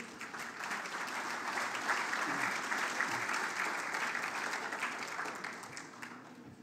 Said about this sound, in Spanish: recibámoslos a don Marcelo, por favor, con un fuerte aplauso